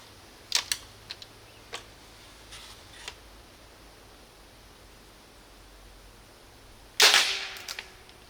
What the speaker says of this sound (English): That was a fat ricochet.